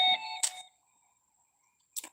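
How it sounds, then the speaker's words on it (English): Mobile phone notification beeps sounding as short, bright electronic chirps, three quick bursts with a quiet gap, close and clear with no talking. "as you hear my phone going off nonstop"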